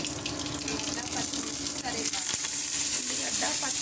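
Onion, green chilli and curry leaves fry in oil with mustard seeds, cumin and urad dal, giving a continuous close sizzle with some stirring and a brief knock.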